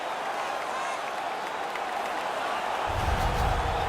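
A video game arena crowd at a hockey game, Canada vs Belarus in NHL 18, roars and applauds continuously, a dense wash of cheering that swells louder near the end.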